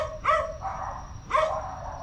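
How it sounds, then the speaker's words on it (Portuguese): A dog near a railway station gives two short barks spaced about a second apart, moderately close, over a steady background hum with no talking. "Olha o cachorro."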